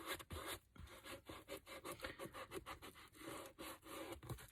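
Glued paper being rubbed down by hand through cling film on a paper mache box, giving a steady dry scraping and rubbing texture in short repeated strokes, close and fairly quiet, with no talking.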